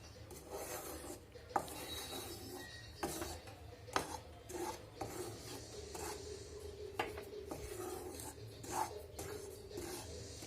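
Ragi (finger millet) flour being dry roasted in a pan without water for halwa, heard as steady scraping and rubbing strokes of a spoon with occasional sharper knocks, close and fairly quiet.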